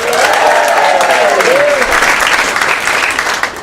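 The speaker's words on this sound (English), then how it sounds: "And a huge round of applause for your host and compere, Mr. Alfie Jury." A comedy club audience at The Stand applauds a host and compere with a loud, dense wash of clapping that stays steady throughout, with a voice faintly heard over it.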